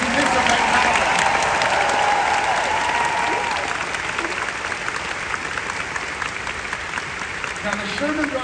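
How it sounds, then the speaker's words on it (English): An audience at the D23 Expo, during a musical tribute, gives loud, sustained applause that fills the hall evenly and eases slightly toward the end. "let's please join me in applauding everyone at D23 for making this event happen"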